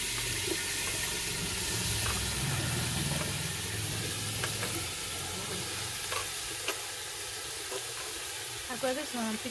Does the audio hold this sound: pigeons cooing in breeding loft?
no